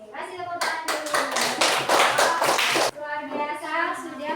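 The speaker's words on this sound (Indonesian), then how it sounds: "Kasih tepuk tangan dulu." Classroom audience clapping hands after a teaching presentation, a burst of lively clapping rising over a background voice, running about two seconds before stopping abruptly, with talking resuming afterward.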